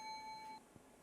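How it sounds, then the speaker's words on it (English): A bell-like electronic tone sounds in a cardiac catheterisation lab during a live heart procedure. It is a single steady ring of about half a second, faint and distant, then fades into quiet room noise. "I am hearing the bell."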